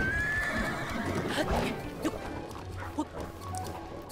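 A horse in Zelda: Breath of the Wild neighs in a loud, high whinny over steady game ambience and rumble, with a couple of brief snorts or hoof sounds following.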